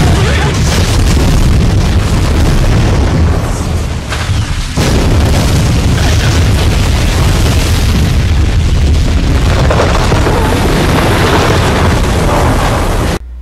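A ship blowing apart in the pirate film Cutthroat Island, a sustained, very loud roaring blast with crashing debris that fills the whole stretch, briefly dipping midway before thundering on to an abrupt cut.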